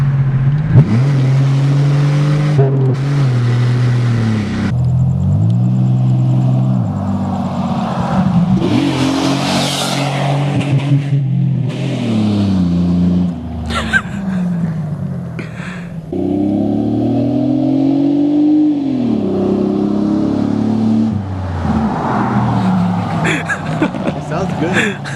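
A Pontiac Grand Am with an aggressive aftermarket exhaust revs repeatedly in first gear, its loud engine rising and falling in drawn-out pulls close by, with a person talking in between.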